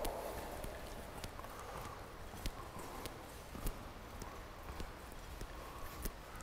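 Hooves of an Olympic mare clip-clop steadily during a flatwork training session in a riding arena, a continuous rhythmic beat of footfalls close by with a few sharper accented strikes.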